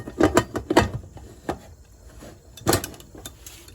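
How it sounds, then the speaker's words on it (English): A pressure cooker lid is fitted onto the pot while stewed chicken noodle soup is made, with a few close metallic clacks and knocks spaced out in quiet, and no talk. "I'm just going to add the top to my pressure cooker."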